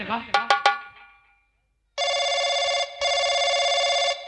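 A few quick chime-like notes are followed by a pause, then two long, steady electronic telephone rings in a row, clear and close.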